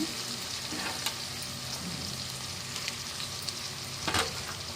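Mixed vegetables frying in a pan for vegetable bath, a steady close sizzle with occasional scraping stirs and brief louder bursts.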